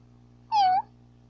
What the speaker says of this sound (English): Say hi to the kitty. Say meow.